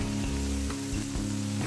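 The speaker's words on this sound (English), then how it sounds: "you can hear that sizzle." Smash burger sliders sizzle on a Blackstone griddle, a continuous loud frying crackle over a steady low hum, with no voices.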